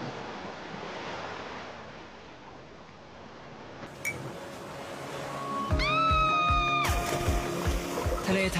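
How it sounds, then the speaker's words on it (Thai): Waves wash continuously on a Thai beach in a steady, hissing surf roar. Near the end a brief rising tonal whine rises over the water noise. "ทะเลไทยอ่ะอันนี้เด็ดจริงมาเมื่อไหร่ก็สวย"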